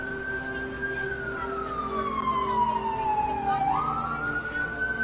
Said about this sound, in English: I'm going to let the ambulance pass